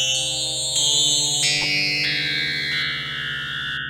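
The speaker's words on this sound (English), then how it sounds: "that's sustained white noise hitting our resonator" On the Dawesome Myth synth, sustained white noise excites a resonator and produces layered, ringing tones that hold and step down in pitch, bright and echoing, with no voices.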